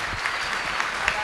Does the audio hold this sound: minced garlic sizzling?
no